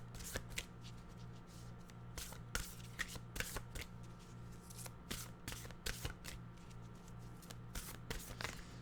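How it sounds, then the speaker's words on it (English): Nature's Whispers oracle cards being shuffled by hand in a steady series of crisp riffling flicks and soft slaps, close and fairly quiet over a low constant hum, with no talking. "Let's get our Nature's Whispers cards here."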